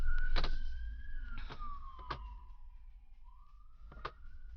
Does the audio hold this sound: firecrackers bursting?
no